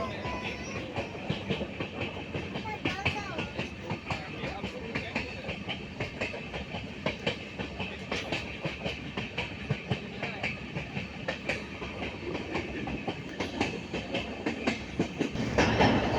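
A train rumbles by with a steady rolling clatter of wheels on track, continuous and fairly close throughout, swelling slightly near the end.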